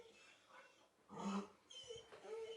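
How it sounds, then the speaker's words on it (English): A dog whimpers close by in short, uneven whines that rise and fall over a few seconds, with a louder whining burst near the middle and no talk over it. "For those of you who hear her whimpering, she's not dying."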